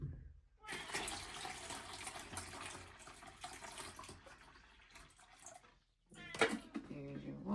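Water runs steadily from a tap for a dog, a continuous hissing splash lasting several seconds that cuts off briefly before other faint household noises and rustling follow.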